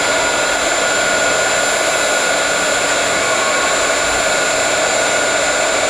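Steady, loud broadband whoosh of a hot air tool blowing continuously as it heats shrink plastic held in a tray, unbroken for the whole stretch with no talk.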